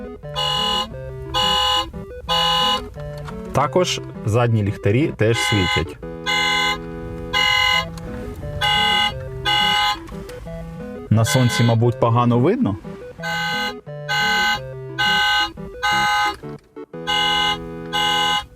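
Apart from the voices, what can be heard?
toy car horn sounds when pressing the steering wheel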